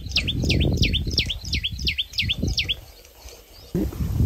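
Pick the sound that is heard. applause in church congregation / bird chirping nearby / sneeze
bird chirping nearby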